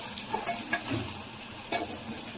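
Ginger garlic paste being stirred as it fries in a pan, giving a steady soft sizzle with faint scrapes of the spoon, close and alone with no talk.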